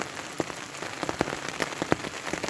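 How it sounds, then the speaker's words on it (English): Rain falls on a tent during a solo canoe trip, a dense steady patter with sharper individual drops tapping close by, and no voices. "it started raining around like 9:30 or so last night, and it hasn't stopped"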